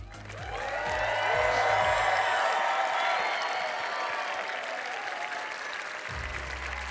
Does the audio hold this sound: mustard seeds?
no